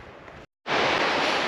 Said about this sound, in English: You hear the river below me.